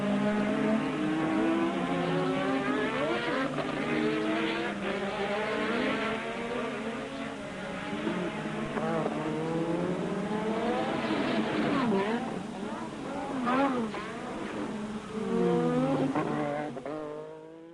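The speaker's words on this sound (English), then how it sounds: "you lovely people get to listen to engine noises for a bit as Nelson gains on Keke" Formula One race cars from the Piquet–Rosberg era scream past, their high-revving engines sweeping up and down in pitch continuously and loudly, with overlapping cars passing and fading throughout.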